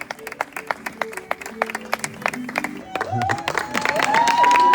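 Scattered clapping at a wedding celebration starts as sparse, separate hand claps, then swells into fuller applause with whoops and lively voices near the microphone.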